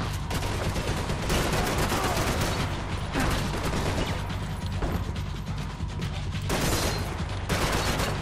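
Sustained gunfire from the Max Payne 3 video game, a dense, loud fusillade of rapid shots and bursts running throughout with a few brief lulls, set against a steady game soundscape.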